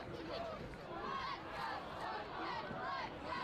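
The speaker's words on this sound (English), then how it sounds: "One more time, the chant from the crowd." High school football crowd at a Thanksgiving Day game between the Westerly Bulldogs and Stonington Bears, chanting in a steady, continuous mass of voices with rhythmic swells, moderately distant.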